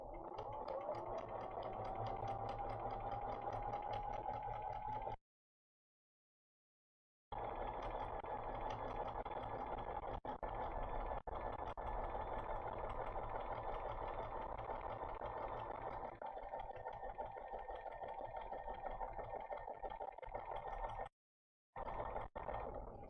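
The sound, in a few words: sewing machine sewing a zigzag stitch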